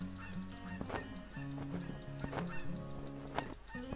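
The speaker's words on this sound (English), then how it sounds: "All us Canadian geese, all happy." Canada geese honking in the hunting video game theHunter Classic, a flock of repeated nasal calls overlapping steadily throughout over a dense background bed, with no talking.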